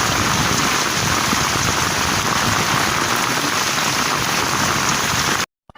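Heavy, steady rain pours down in a dense hiss, loud and close throughout, cutting off abruptly near the end.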